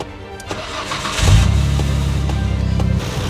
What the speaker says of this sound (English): We'll turn the car on again, see if it's still squealing.